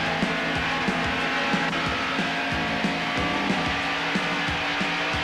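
NASCAR race cars roar around the track with Bill Elliott and Darrell Waltrip battling, a continuous loud engine drone with steady rhythmic pulses and pitch shifts as cars surge past.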